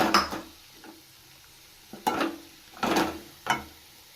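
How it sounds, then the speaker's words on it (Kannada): Garam masala stirred into a fried mixture in a pan for egg noodles made from leftover chapati, with several sharp scraping clinks of a spoon against the pan and faint sizzling between them. "ಇದಕ್ಕೆ ನಾನು ಸ್ವಲ್ಪ ಗರಂ ಮಸಾಲ ಸೇರಿಸ್ತಾ ಇದ್ದೀನಿ ಮಿಕ್ಸ್ ಮಾಡ್ತಾ ಇದ್ದೀನಿ"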